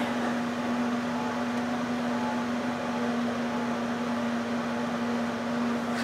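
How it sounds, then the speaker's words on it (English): An internal fan runs inside a Thermo Lab-Line Model 3498M 240-volt clean room oven, producing a steady, even hum with a constant tone and nothing else over it. "Fan's working nicely."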